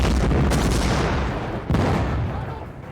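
Mortar rounds burst on a Vietnam War outpost in heavy, rumbling booms, with a loud, close blast near the start and another rolling explosion soon after.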